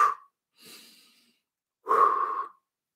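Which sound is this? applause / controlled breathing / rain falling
controlled breathing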